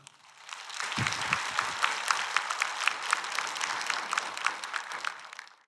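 A church congregation claps warmly to welcome a pastor to the pulpit. Moderate applause swells in, holds steady with distinct individual claps, and fades out at the end.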